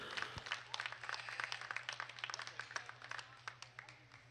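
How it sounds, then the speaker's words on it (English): Scattered applause at a breeding sheep show in a livestock arena after exhibitors' pairs are judged, a light patter of claps from a modest crowd, fairly faint and uneven. "Let's go ahead and give these exhibitors a big round of applause."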